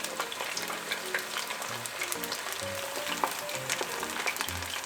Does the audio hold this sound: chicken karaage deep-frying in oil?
yes